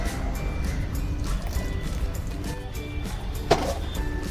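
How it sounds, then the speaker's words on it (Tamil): A small amount of water is poured into muttappam batter while cooking, producing a soft, steady trickle over a constant low background hum, with a brief sharper splash near the end. "கொஞ்சமாக தண்ணி ஊற்றிக்கலாம்."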